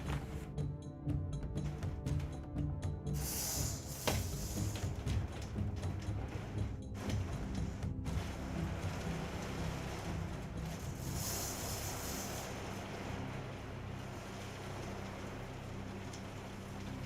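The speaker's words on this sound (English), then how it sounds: "can you guys hear the rain coming down? It is going crazy." Heavy rain and a strong windstorm lash a window outside, a steady loud broadband wash of downpour with gusty surges running through the whole stretch, no talk over it.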